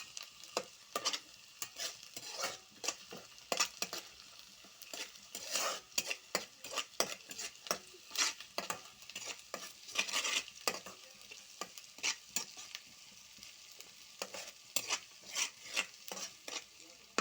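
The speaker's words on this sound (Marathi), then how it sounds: "आता हे चांगलं परतून घेऊया." Grated ginger frying in a pan, stirred with brisk, repeated metal scraping strokes over a faint sizzle, quiet and close.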